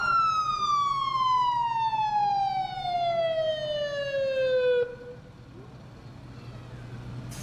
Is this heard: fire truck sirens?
yes